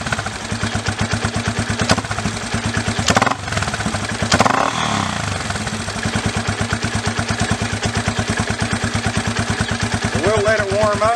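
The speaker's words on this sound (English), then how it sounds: "right now it's dead cold. And of course it's idling, but it doesn't sound all that great." A cold Yamaha Raptor ATV engine idles low and loping with a rough, uneven chug, briefly louder in the middle, while a person talks nearby.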